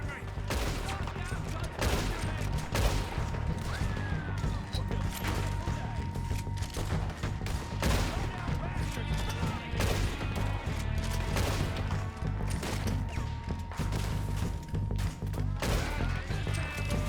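Gunfire crackles nonstop through a shootout in Red Dead Redemption 2 against the O'Driscolls, with dense overlapping shots, some rapid bursts and crashes, loud and busy throughout, with shouting voices mixed in at times.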